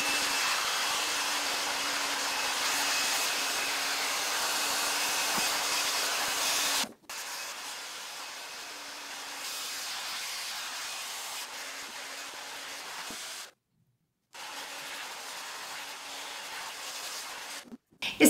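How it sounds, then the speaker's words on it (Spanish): A hair dryer with a diffuser attachment dries curly hair, giving a steady, loud blowing hiss with a low motor hum. The airflow cuts out briefly twice before resuming, and no one speaks. "es hora de utilizar nuestro difusor"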